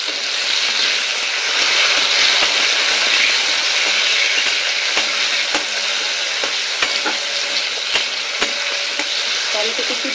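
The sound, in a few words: frying chopped tomato with potatoes while stirring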